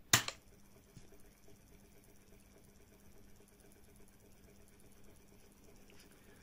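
The small motor of a dishwasher's three-way valve hums faintly and steadily after a sharp click at the start, a low quiet drone with light mechanical ticking.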